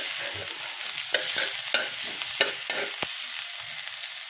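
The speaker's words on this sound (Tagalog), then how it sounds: "At tayo ay magsasangag ng ating kanin." Rice stir-fried with garlic for sinangag in a pan, a close sizzling hiss with quick scraping stirs and a sharp clack, steady and without talk.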